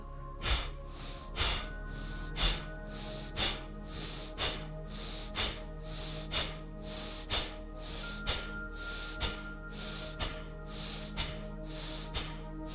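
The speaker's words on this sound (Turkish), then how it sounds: "Bir kere daha nefes al ve pompalara başla." Rapid yoga breath pumps during a guided practice, a steady train of about thirteen forceful exhalations through the nose, each a sharp close puff at roughly one per second, over a low background hum.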